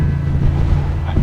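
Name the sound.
wind blowing on a hilltop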